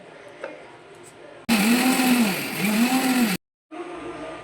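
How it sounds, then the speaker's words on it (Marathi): An electric mixer grinder grinds betel-leaf paan ingredients, including fennel seeds, to a coarse texture. A loud, close whirring motor runs for about two seconds and rises and falls in pitch, then stops abruptly; quieter kitchen background sounds surround it. "आता आपण हे सर्व जिन्नस मिक्सरमध्ये बारीक करून घेऊया"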